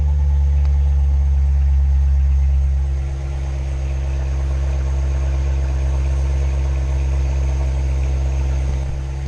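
A C7 Corvette engine in track mode runs with a loud, deep rumble that eases after a few seconds into a steady idle, up close with no talking.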